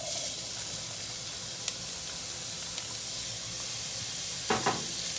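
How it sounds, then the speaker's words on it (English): Onions sizzling in hot shimmering oil while cooking Calabrian pasta, heard as a steady broad hiss with a couple of faint taps and a short clatter near the end, close and without voices. "Now let's go ahead and add in our onions."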